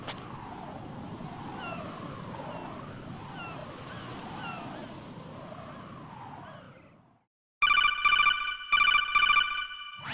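Ocean surf rolls for several seconds, then stops, and a cell phone in Metal Gear Solid 2 rings in two loud repeated electronic bursts.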